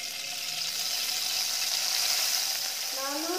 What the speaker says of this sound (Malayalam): ഇനി കിസ്മിസ് ഇടാം ഒരു ടീസ്പൂൺ ഘീയും കൂടി ഇടാണ്